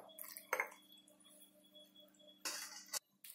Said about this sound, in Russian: теперь заливаем маринадом. Заливаем полную баночку.